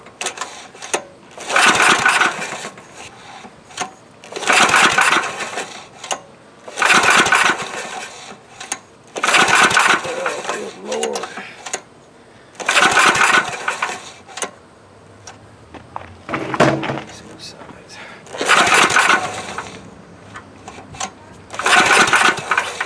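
A Coleman Powermate Maxa 5000 ER portable generator engine is cranked again and again in about nine loud, evenly spaced bursts, each about a second long, with short quiet gaps between them as it struggles to start.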